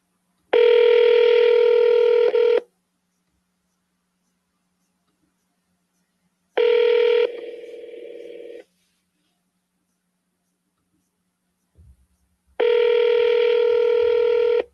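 Touch-tone telephone dialing tones in three loud, electronic bursts of about two seconds each, separated by long silences, heard alone with no voices.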